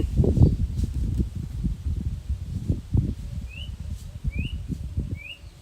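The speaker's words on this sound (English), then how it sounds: "The whistle of the bird sounds like there's someone whistling, right?" Birds in an outdoor spot on Siquijor in the Philippines: a few short rising whistles repeat at intervals in the distance, over rustling and nearby handling noise, without talk.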